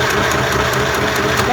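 A mini sewing machine stitching fabric, its small motor humming steadily with a rapid, even ticking of the needle, loud and close.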